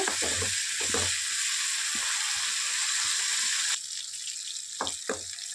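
Turkey berries fry on low heat in a pan, a steady close hiss of sizzling oil with a few soft stirring clicks and knocks, the sizzle dropping quieter partway through, no voices.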